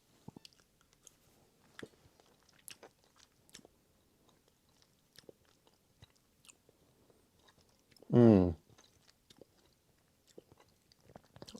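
Dark chocolate being chewed close to the ear, a steady run of soft, sparse crunches and mouth clicks, quiet throughout, with one brief louder voiced sound in the middle.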